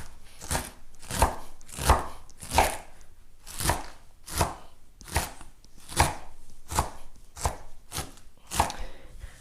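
Fresh cabbage being chopped by hand with a knife for sauerkraut, around fourteen crisp, steady thunks at an even rhythm, close and clear with nothing else heard.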